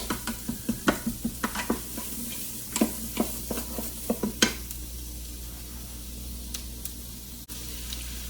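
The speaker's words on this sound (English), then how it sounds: "Stir up. You want to activate that garlic." Garlic sizzling in a pan for carnitas, stirred with quick repeated scrapes and clicks in a brisk rhythm at first, then settling into a steady hiss of frying, close up with no talking.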